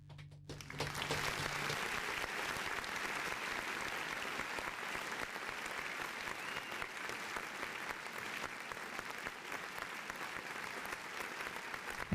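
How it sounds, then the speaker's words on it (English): Audience applause for a newly introduced DARE officer at a sheriff's department event, a steady dense clapping that starts after a second and holds at an even level for the full stretch, fairly close and without speech over it. "give her a round of applause"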